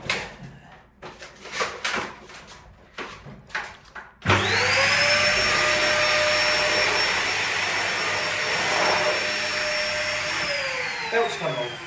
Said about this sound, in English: But today, got the Hoover out, folks. So let's give it a Hoover.